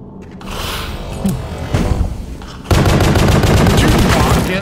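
Bursts of gunfire ring out in the video game Pony Factory, a few loud shots early, then a sustained rapid automatic volley dominating the final two seconds.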